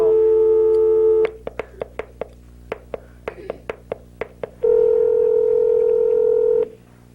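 A landline for a game-show phone-a-friend call gives a steady dial tone, then a quick run of about a dozen separate touch-tone beeps, and finally a long continuous tone, loud and close.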